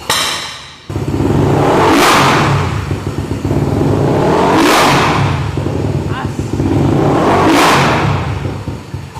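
A rebuilt Yamaha Aerox 185cc motorcycle engine revs in three long surges, each climbing to a loud high roar and dropping back, close and unmuffled with a steady throaty idle in between.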